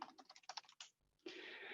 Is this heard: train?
no